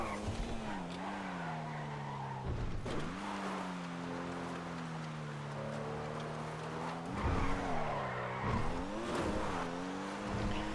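A Pfister Comet Retro Custom car in GTA V Online running at top speed across an airport, its engine holding a steady high whine with pitch dips at gear changes and bursts of tire squeal.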